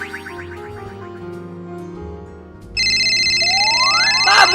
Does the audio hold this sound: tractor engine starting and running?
no